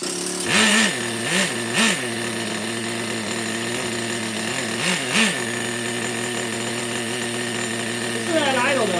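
A Team Associated RC10GT2 nitro RC car engine runs at a steady high buzz, revving briefly several times with rising and falling whines, while a voice talks intermittently over it.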